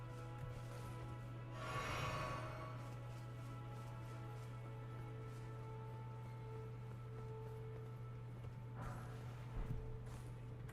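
Horse hooves clip-clopping in the video game Elden Ring, faint steady trotting with a couple of louder bursts of movement over a constant low game hum.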